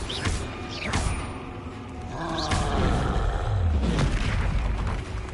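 The Incendio fire spell is cast in the video game Hogwarts Legacy, producing a roaring whoosh of flame with booming bursts that swell and subside amid the background sounds of combat.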